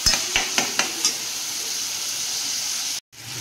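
Chopped onion frying in a pan as the base for a fish curry, a steady close sizzle and hiss with a few soft stirring scrapes near the start, briefly cut off near the end.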